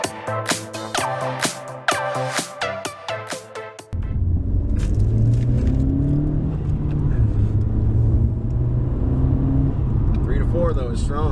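A 2017 Honda Civic EX-T with the 1.5-litre turbo engine, tuned with a Ktuner V2, pulls hard in fifth gear, its engine drone and road rumble rising steadily after a few seconds of sharp clicking and knocking.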